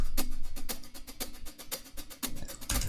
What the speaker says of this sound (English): A brush loop. This is kind of brushes on hi-hats.